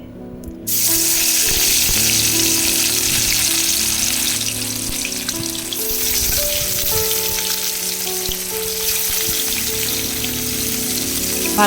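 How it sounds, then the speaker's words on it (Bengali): Loud, steady sizzling of rohu fish pieces frying in hot oil in a wok, with a brief clatter at the start and continuous crackling throughout. "তেলটাকে ভালো করে গরম করে নিয়ে আমি এক এক করে মাছগুলো তেলের ওপর দিয়ে দিচ্ছি"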